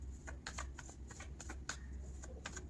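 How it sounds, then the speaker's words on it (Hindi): Tarot cards riffled and shuffled in quick, soft papery bursts with scattered flicks as cards are drawn, close and fairly quiet, no talking. "पहले हम आपके लिए कार्ड्स निकालेंगे।"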